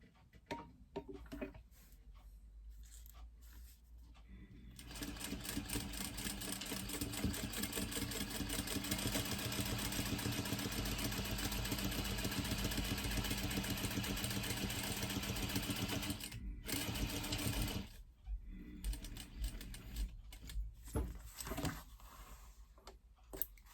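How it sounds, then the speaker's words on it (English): Sewing machine stitching a fabric poop bag holder at a 3/8-inch seam with a number 3 stitch, running in a steady, fast mechanical whir for about eleven seconds between quieter clicks and handling at the start and end. "I'm going to stitch at 3/8 of an inch using a number 3 stitch."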